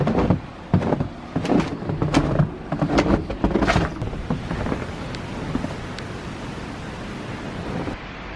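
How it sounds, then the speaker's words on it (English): Strong wind gusts outdoors in snowy winter weather, roaring and buffeting the microphone loudly in the first half before easing into a steadier, softer rush. "Oh, that wind."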